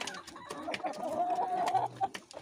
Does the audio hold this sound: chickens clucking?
yes